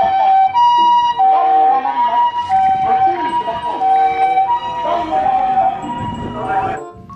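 A toy ambulance's electronic siren wails steadily in a warbling, repeating pattern, loud and close, with faint background sounds and no clear talk.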